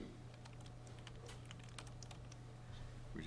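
A computer keyboard clicks in a quiet room, with a short, irregular burst of light keystrokes over a low steady hum. The typing is close but soft, and nobody speaks.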